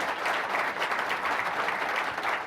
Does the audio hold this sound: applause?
yes